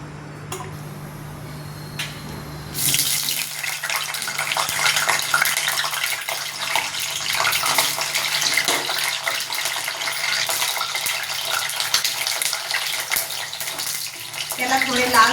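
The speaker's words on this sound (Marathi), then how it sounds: "आता घेते मी वांग तळायला।" Eggplant pieces drop into hot oil in a pan for masala vangi, bursting into a loud, steady close sizzle after a few quiet seconds of light kitchen sounds.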